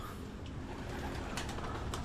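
Low pigeon cooing beneath a noisy, rustling background, with a few brief clicks near the end.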